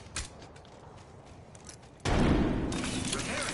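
A frag grenade explodes in the Apex Legends video game, a sudden heavy boom about halfway through that settles into a loud, rumbling wash after a quieter stretch of scattered game sounds.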